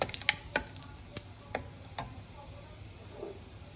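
Whole cumin seeds (jeera) pop and crackle in hot oil, giving a few sharp ticks over a faint, steady sizzle.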